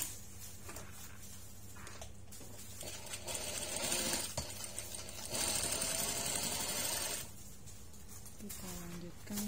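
Sewing machine stitching a second seam on a custom navy-striped two-litre water bottle bag, with fast whirring bursts of needle rattle starting and stopping and a faint voice in the background.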